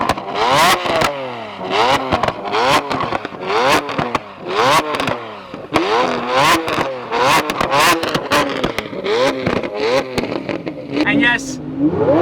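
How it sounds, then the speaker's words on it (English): Flame-throwing Lamborghini Aventador with its check engine light on, revved repeatedly in quick blips: loud rising and falling engine sweeps with sharp crackles and pops, close to the microphone. "I think we should rev it for the state of California"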